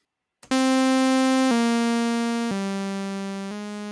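A Sylenth1 software synthesizer oscillator holds a bright, buzzy sustained tone that steps up in pitch at four even one-second intervals, loud and alone with a slowly fading level.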